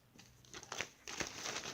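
Quiet, close-up crinkling of a plastic bag in short bursts, with brief pauses between the rustles.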